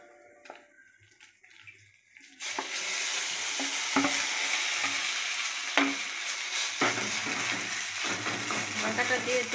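A mixture hits hot white oil in a kadai and is stirred, breaking into a loud, sustained sizzle after a short quiet opening with a voice and clicks, with spoon scrapes scattered through the frying.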